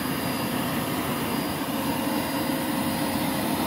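A Lindhaus Aria Elite vacuum cleaner runs with a steady, even whoosh of airflow and motor hum, fairly quiet and unchanging throughout.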